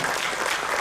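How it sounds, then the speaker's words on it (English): An audience at a business presentation bursts into dense, steady applause, a brief full burst of clapping. "Can we give a round of applause for Marlon?"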